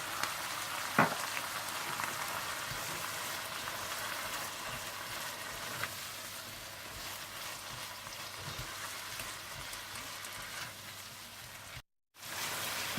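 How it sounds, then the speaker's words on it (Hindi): Red chilli powder, salt, roasted cumin and ground roasted coriander fry in oil for ginger chicken, a steady, moderate sizzling hiss with a few small pops and a brief dropout near the end. "सूर्ख मिर्च पाउडर, नमक, कुटा हुआ और भुना हुआ जीरा, कुटा हुआ भुना हुआ धनिया डालकर अच्छी तरह से भून लें"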